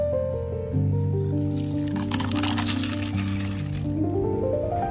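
Grit and water dumped out of a container after a wash, a wet, sloshing, squishing gush, close and loud, over a sustained tonal hum that rises and falls.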